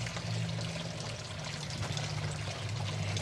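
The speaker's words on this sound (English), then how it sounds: "And the waterfall is on today." A small garden waterfall runs steadily close by, water pouring and splashing in a continuous even rush with a low gurgling undertone, heard alone without talking.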